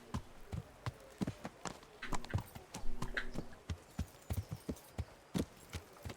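Horse hooves clip-clopping at a steady walking rhythm in the medieval role-playing game Kingdom Come: Deliverance, close and distinct, with a few brief tonal game sounds mixed in.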